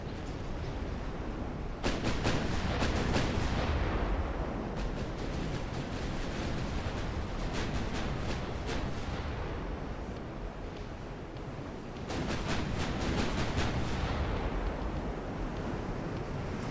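Heavy cruiser main guns fire during a naval battle in Ultimate Admiral: Dreadnoughts, with clustered booming salvos that burst out over a constant deep rumbling roar, then return after a lull.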